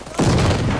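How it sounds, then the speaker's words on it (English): A short, loud burst of rapid gunfire in a video game team deathmatch, a dense rattling volley that kicks in abruptly and holds close for under a second. "I just got shot in the back."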